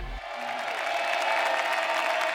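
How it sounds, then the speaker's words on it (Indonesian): A studio audience on a talent show applauds the panelists, steady clapping that swells and holds after a brief low thump at the start. "silakan buat para panelis kita berikan tepuk tangan supaya semangat mereka"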